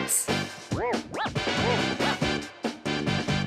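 A dog barks in a rapid series of yips and bow-wows, loud and close, about half a dozen barks in quick succession with short gaps.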